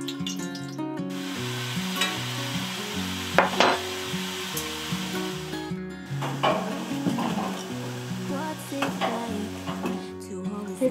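Fish frying in two very hot pans on a stove in a construction trailer, a steady close sizzle with stirring and occasional scrapes of pans and utensils, no talk.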